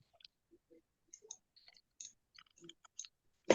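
Sparse, light mouse clicks in a computer class, a scattering of short soft taps spread irregularly across a quiet room, ending in one sharper knock.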